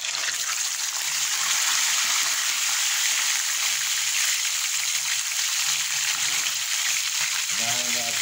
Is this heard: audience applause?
no